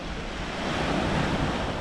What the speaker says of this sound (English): You can see some of the waves now crashing against the rocks